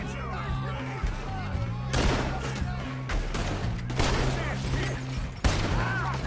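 Steady gunfire crackles through a game shootout in Saint Denis, with repeated shots and booming cracks over several seconds, close and loud, while voices shout in the background.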